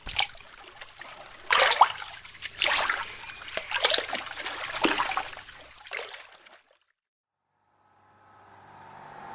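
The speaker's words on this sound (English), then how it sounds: "Pound the water with my paddle and scream that something took you." A paddle pounds and splashes the water in a run of irregular loud slaps and sloshes, then stops and leaves a quiet pause before a faint hiss returns.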